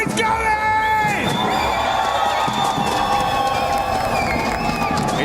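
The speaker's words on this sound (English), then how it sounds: "how loud can you get? Let's get some noise going!" Esports crowd in a Paris arena cheering and shouting, loud and sustained, with whoops and voices over a dense crowd roar.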